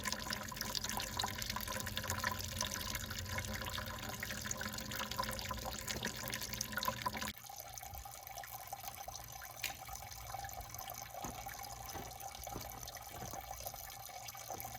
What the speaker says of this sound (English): While that water is draining